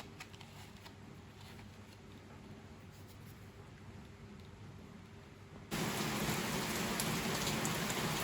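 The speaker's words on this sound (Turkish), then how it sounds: "Bol yağmurlu bir gün arkadaşlar hiç durmadan yağıyor 3 gündür. Bayağı hızlandı." Steady rain hisses down, then abruptly swells into a much louder, heavier downpour pounding the surface nearby.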